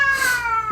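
A cat lets out a loud, angry meow indoors, a single drawn-out, strained cry that lasts the whole short moment, close by with no talking over it.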